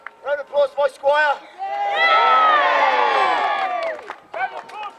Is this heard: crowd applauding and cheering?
yes